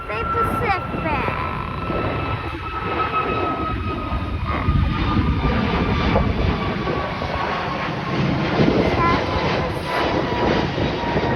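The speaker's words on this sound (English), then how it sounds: "The airplane's coming. An airplane is coming. I can hear an airplane coming" Cathay Pacific airliner flying over at Hong Kong International Airport, a steady broad jet engine roar held throughout, with people talking nearby over the noise.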